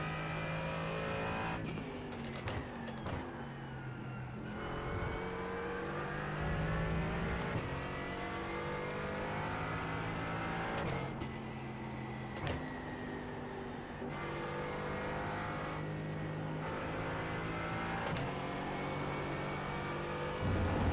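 A Mercedes-AMG GT4 race car engine in the iRacing simulator at Road America drones loudly and steadily, revving up through the gears with a clear break at each upshift and a few drops for braking.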